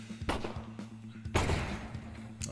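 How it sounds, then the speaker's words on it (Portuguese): An exploding barrel in Counter-Strike running on the Source 2 engine: a few sharp blasts and thuds, with one bigger boom in the middle, over a low steady hum. The sound is fairly quiet and has no voices. "a explosão ela já é mais realista"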